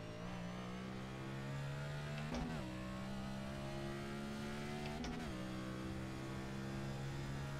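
An iRacing race car engine drones steadily at high revs, with two brief dips where gears shift before the pitch climbs again, continuous and close.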